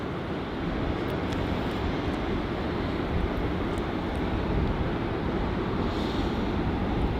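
A Boeing Dreamliner at Melbourne Airport in heavy wet weather gives a distant, steady broadband jet roar blended with the hiss of rain, continuous and even throughout.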